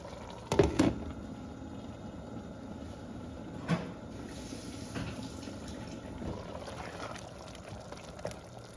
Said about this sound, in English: just bringing you back to see how it looks when it's boiling